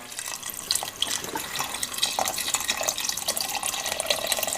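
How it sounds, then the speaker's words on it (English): Seafood stock for a crocodile dish being dumped into a pot, a steady splashing, gurgling pour heard up close and continuing throughout. "adding the rest of our seafood stock right here"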